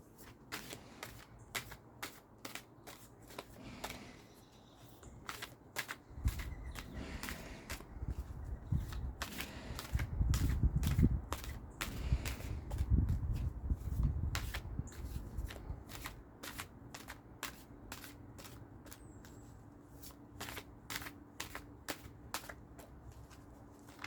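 Tarot cards riffle and snap in repeated quick shuffles, a crisp flutter building to louder bursts midway, with no talking.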